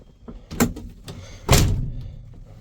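A 1988 Dodge D100 truck door, with its inner panel removed, clunks and thuds twice from inside, a latch click followed by a heavier swinging thump, close by with no talking.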